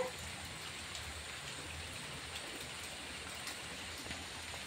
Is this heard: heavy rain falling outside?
yes